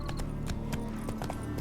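Horse hooves from The Witcher 3, a steady clip-clop of several quick strikes at close range over a low background hum.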